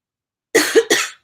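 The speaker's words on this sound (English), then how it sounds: "Sorry for the hacky cough" A hacky cough in two quick bursts, close and fairly loud, with no talking over it.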